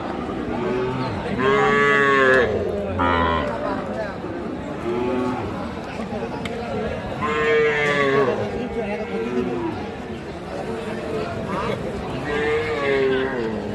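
Several drawn-out moos from Sahiwal cattle, some loud and close, rising over a busy background of people talking and milling about at a cattle market.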